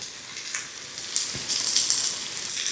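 Steady sizzling of spice paste with chili powder and turmeric frying in a hot pan for satay peanut sauce, a close crackling hiss with small pops, no talking.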